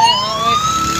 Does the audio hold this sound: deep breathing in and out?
no